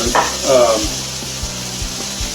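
Ingredients sizzle steadily in a hot sauté pan while making steak Gorgonzola Alfredo, a close, continuous frying hiss with a few soft low thumps and a brief faint voice early on.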